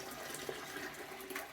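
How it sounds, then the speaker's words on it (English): Hot water poured from a trash can used as a bucket into a clogged toilet, a steady close rushing, gushing splash lasting throughout with no voices. "get me some real, real hot water in a bucket, in this case a trash can, and I just pour it on down the toilet"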